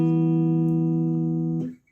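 Guitar in an acoustic piece plays a line where the bass walks up to the root E as the treble steps down to the fifth: sustained ringing notes, close and clear, ending with a brief fade.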